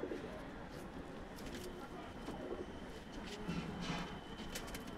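Punjabi pigeons for sale coo softly in a loft, low murmuring calls repeating through steady background noise with some talk nearby.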